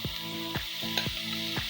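Food sizzles and fries steadily in a pan, with a few soft scraping stirs breaking the crackle, close and moderately quiet with no talking.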